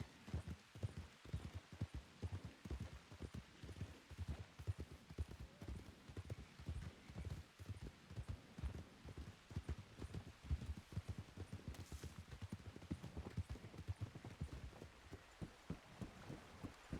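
Horse hooves clip-clop at a steady walking rhythm in the Red Dead Redemption 2 roleplay game, quiet but clear and continuous, with no voices heard.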